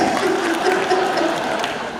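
A live audience at a Hindi comic poetry recital claps, a dense, even wash of applause heard close and steady throughout, with no voices over it.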